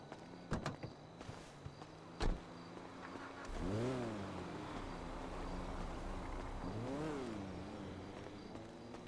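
A Weevil car engine revs in GTA V, two rising-and-falling revving swells several seconds apart over a low idle, with a few sharp clicks and knocks beforehand; no talking.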